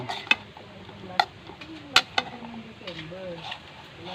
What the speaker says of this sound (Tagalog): haluin natin halo halo lang